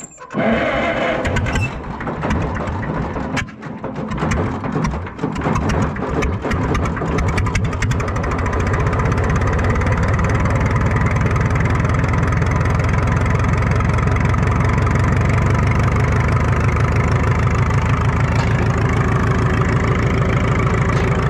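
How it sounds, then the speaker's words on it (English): A four-cylinder Super W6TA tractor engine cranks and sputters, then catches and settles into a loud, steady, rhythmic idle that chugs evenly for the rest of the clip, close by. "I'm going to try and start now and make sure all 4 cylinders are firing on gas."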